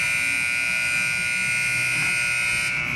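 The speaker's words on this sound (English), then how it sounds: "There's my buzzer on the goal scored just prior to our break here" Goal buzzer in an ice hockey arena at the Trail Memorial Center, a loud sustained electronic horn holding steadily for about three seconds over faint crowd murmur.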